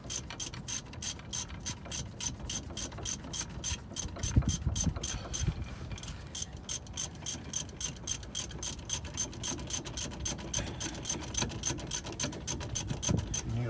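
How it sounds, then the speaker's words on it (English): Ratchet turning a 14mm socket on rear brake caliper bracket bolts gives quick, evenly spaced metallic clicks that run steadily throughout, close and clear, with no talk. "to remove the caliper bracket bolts. 14mm socket. Get you a 14mm to remove the caliper bracket bolts."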